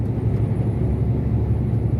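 A dump truck on the road, heard as a steady, loud low rumble with no clear pass-by swell, more like continuous heavy engine and road noise up close.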